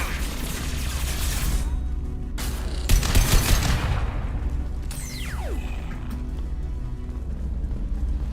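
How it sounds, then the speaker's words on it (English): Heavy gunfire in the Mass Effect 2 shooter cracks out in a short loud volley of several high-impact shots, followed by a sharp whooshing tail and lingering rumble, with faint talk in the background. "Firing a high impact shot."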